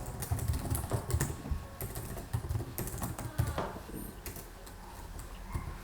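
Rapid clicking of a computer keyboard being typed on, bursts of keystrokes in an irregular rhythm, close and fairly quiet.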